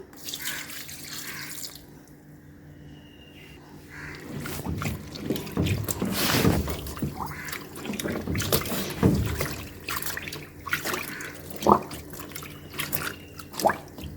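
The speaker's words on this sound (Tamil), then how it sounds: "இந்த நூறு கிராம் கிளாஸு இதில் ஒரு கிளாஸ் ஊற்றிக்கிறேன்" Bioenzyme liquid poured from a glass into a washing machine, a steady watery splash and trickle that swells and tapers off, close by and fairly loud with no talking.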